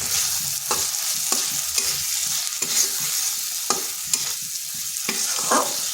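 Ground spices (cumin, coriander, chilli and turmeric powder) being stir-fried in a pan, a steady soft sizzle broken by repeated scraping strokes of a spatula, close and clear with no talking.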